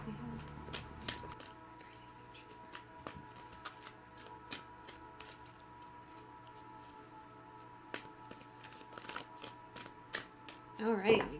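A deck of tarot cards being shuffled by hand, with soft repeated riffling and tapping clicks spread across the clip, close and fairly quiet, with no talk over it.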